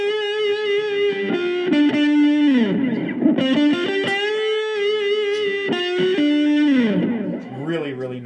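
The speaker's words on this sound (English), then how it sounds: "Really nice delay." Cigar box guitar played through a Roland Micro Cube GX amp with delay engaged: distorted slide-like notes and repeated phrases echo and trail into each other, loud and close, with no talking.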